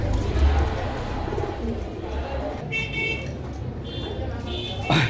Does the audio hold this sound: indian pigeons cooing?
yes